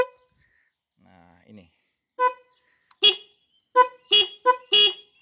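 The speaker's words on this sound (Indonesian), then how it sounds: "Nah, jadi ada dua klakson." Two horns fitted to a Honda CB150 Verza motorcycle, a standard one and a larger louder one, blown in several short sharp blasts in quick succession, with brief talk just before them.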